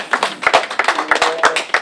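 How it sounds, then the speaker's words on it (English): A round of applause for nursing home staff from a small group of people, close and distinct individual claps in an uneven rhythm, with no voices over it. "I think you need a round of applause."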